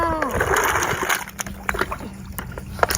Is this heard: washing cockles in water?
yes